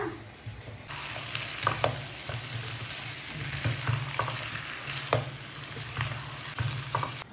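Spices fry in a pan with oil, giving a steady close hiss and sizzle broken by scraping stirs, with no voices.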